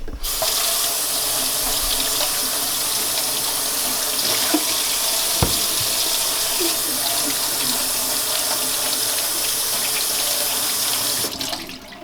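Tap water runs steadily into a kitchen sink as potatoes are washed for French fries, a loud continuous splashing stream with a few small knocks of handling, stopping just before the end.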